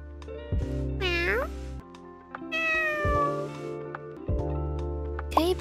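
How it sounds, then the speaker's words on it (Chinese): A cat meows close by, a few drawn-out cries that rise and fall in pitch, separated by short pauses over a steady low background hum. "可以把这个猫咪捡回家吗？"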